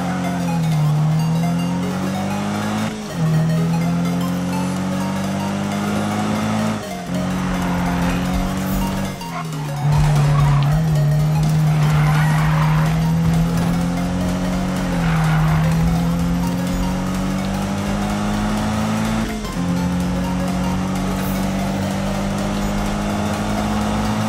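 A car drifts in the racing game Need for Speed, engine droning steadily with repeated long tire squeals that rise and break off every few seconds, loud and continuous, with no talking.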